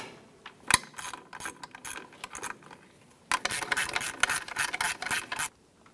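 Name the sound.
ratchet with 11mm and 12mm sockets tightening ball joint nuts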